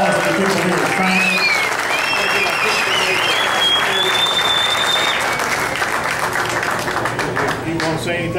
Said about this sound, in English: Big round of applause for the people here